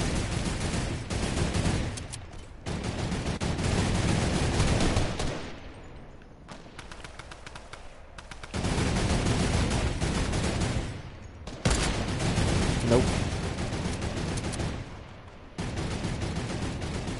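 A light machine gun fires in a video game, long rapid sustained bursts of loud gunfire broken by short pauses, close and dense, over roughly seventeen seconds.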